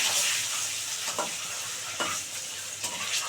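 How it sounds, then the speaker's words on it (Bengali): An egg seasoned with salt and turmeric fries in a pan, giving a steady close sizzle broken by a few soft scrapes of stirring. "বন্ধুরা ডিম ভালো করে ভাজা হয়ে গেছে"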